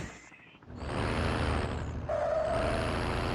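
A vehicle in the mobile shooter Call of Duty Mobile starts up with a hissing burst, then settles into a loud, continuous engine roar with a steady whine, close and alone without talk.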